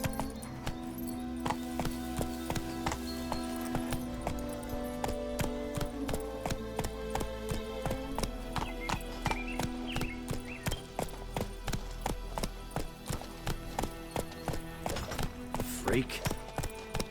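Hooves of a galloping horse in The Witcher 3 beat out a steady, even rhythm under game music and ambience, with a character's voice heard over it.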